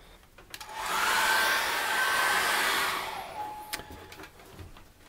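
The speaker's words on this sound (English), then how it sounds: "I'm going to dry that with a hairdryer" A hairdryer switches on and blows with a steady whirring roar for a couple of seconds, then cuts off, followed by a few soft clicks.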